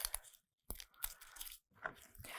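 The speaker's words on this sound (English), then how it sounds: "And we're gonna dice this onion." Knife dicing an onion on a cutting board, a few faint, close crunching cuts in short bursts separated by brief silences.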